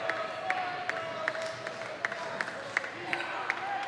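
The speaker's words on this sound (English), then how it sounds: "it's wonderful to hear crowd noise inside this building" Arena crowd at a jai-alai championship match between the Cyclones and Chargers, a steady murmur of spectators with sharp periodic claps or ball impacts roughly every half second and faint whistles.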